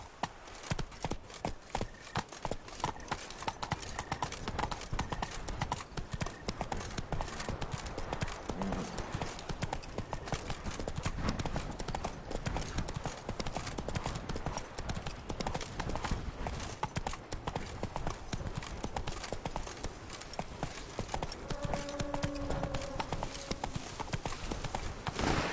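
Roach the horse gallops in The Witcher 3, steady clip-clopping hooves running continuously and loud throughout, with a brief voice near the end.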